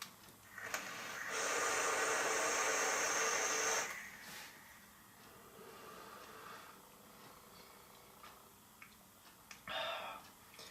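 A hit drawn from an e-cigarette makes a steady breathy hiss of about three seconds, close and fairly loud, followed by quieter exhaled air and a short puff near the end.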